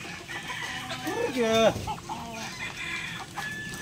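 Tagalog native chickens on a small farm, clucking with a short rooster crow rising and falling near the middle, heard fairly close against a busy outdoor background.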